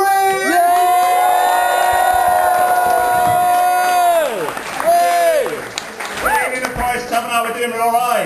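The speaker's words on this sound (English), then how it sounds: "loads of clapping, cheering, whooping, laughter, and welcome to the stage, Jonathan Green" A stand-up comedy audience at the Forest Tavern pub claps, cheers and whoops loudly, with long sustained whoops and shouts over steady applause that breaks into scattered yells toward the end.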